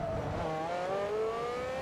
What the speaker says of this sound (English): This car sounds really neat, by the way.